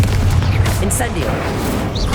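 The Incendio fire spell cast in Hogwarts Legacy during an intense fight, a loud rushing, booming blast of flame with a crackling burst layered over continuous game noise.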